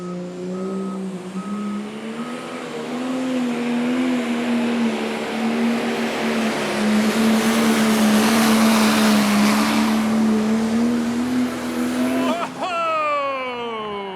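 Pro stock pulling tractor engine at a county fair pull in Goshen, Indiana, roars in a long, loud sustained rev that climbs steadily in pitch, then cuts off abruptly near the end.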